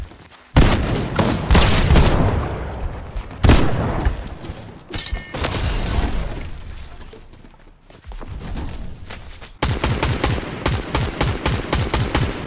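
Rapid automatic weapon fire in Fortnite, loud and close, in dense bursts through most of the stretch, ending in a steady rattling run of evenly spaced shots.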